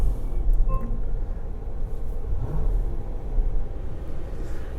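A 2017 Dodge Durango R/T's 5.7-liter HEMI V8 rumbles steadily at idle or light throttle, a low, continuous engine drone heard from inside the SUV with no talking.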